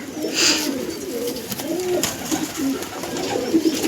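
Domestic pigeons cooing at a pigeon keeper's home in Dankuni, soft repeated low coos close by over a light background hum.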